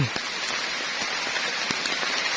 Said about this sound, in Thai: ฝนลงแล้วพี่น้องฝนลง